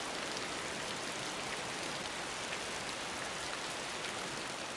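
Pouring rain in the video game Raw Danger hisses as a dense, even wash of drops. It stays steady and fairly quiet throughout, with no voices.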